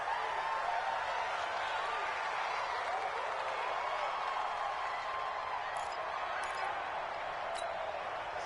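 Constant stadium crowd roar from an American football video game, Buccaneers versus Falcons, a dense, loud wash of cheering that holds steady throughout.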